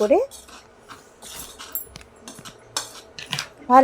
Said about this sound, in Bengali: 5 চামচ সুজি নিয়ে নিলাম, স্বাদ মতো নুন আর একটু হলুদ দিয়ে দিলাম। দিয়ে সবার প্রথমে মিক্সিং করে নিতে হবে খুব ভালো